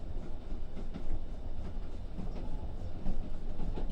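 Steady rumble of a train running on rails, with a soft rhythmic clickety-clack of wheels over track joints heard from inside the carriage, continuous and moderately loud.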